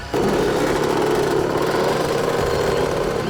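A motorcycle engine runs loud and close, a steady rough mid-pitched drone that starts abruptly and holds without pause.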